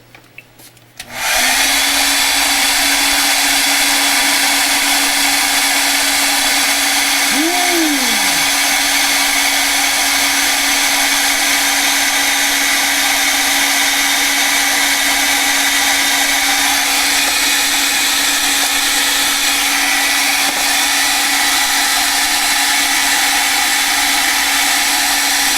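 Hair dryer drying an art journal page, switching on and blowing in a loud, constant close-up whoosh with a steady whine for over twenty seconds.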